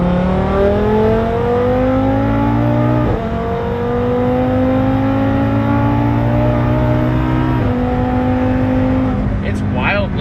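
A cammed Camaro pulls hard through the gears, the engine note climbing in long, loud rising sweeps broken by two quick shift dips before it backs off near the end.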